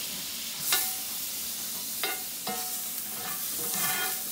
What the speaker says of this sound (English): for the final touch, the final searing of this cowboy rib. We're gonna throw some butter in there.